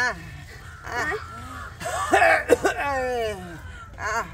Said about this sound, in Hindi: देखो की भ गेलै हिनका कते खांसी हो लगले